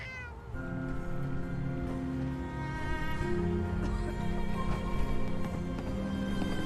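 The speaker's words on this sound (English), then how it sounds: "Oh, I think Dick likes you. Here, kitty" A cat in a video game meows repeatedly in drawn-out, wavering calls, loud and close, layered over a steady hum of in-game ambience.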